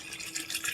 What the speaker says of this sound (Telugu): వేసుకొని వాటర్ పోసుకుంటున్నాను.